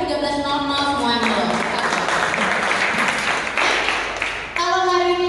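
An audience claps and applauds steadily for several seconds, a dense wash of hand claps that swells in the middle and tapers off, with voices over it.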